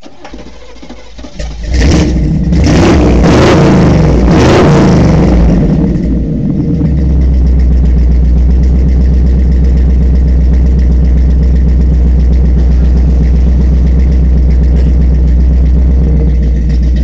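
A car engine with a broken exhaust turns over and revs roughly for several seconds, then settles into a loud, throaty, sputtering idle with a rattly exhaust tone.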